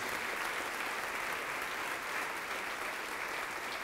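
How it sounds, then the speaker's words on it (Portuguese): A church congregation claps in praise, a sustained, even roar of many hands that stays uniform and fairly distant for the whole stretch, with no voices standing out. "vamos aplaudir mais ao Senhor Jesus"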